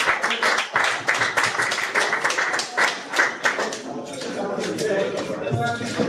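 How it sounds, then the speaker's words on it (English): An audience gives a round of applause at a live-broadcast event, a steady burst of clapping for several seconds that fades into a softer crowd murmur. "A big round of applause for them."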